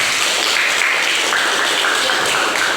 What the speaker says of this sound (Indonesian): tepuk tangan untuk Happy.